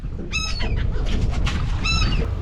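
Seagulls calling near a crab fishing boat at sea, two loud nasal cries, one early and one late, over a steady rumble of engine and wind.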